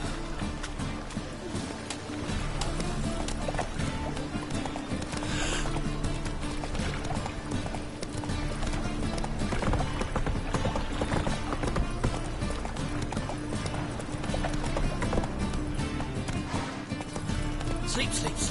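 In The Witcher 3, a horse gallops in a continuous rapid hoofbeat rhythm. It runs steadily under dense game ambience and music, with brief character speech.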